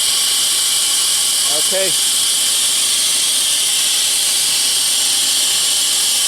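A torch flame hisses steadily and loudly while heating a compressor on a Rheem two-stage rooftop AC unit. The broad hiss runs unbroken throughout, and a voice speaks briefly over it.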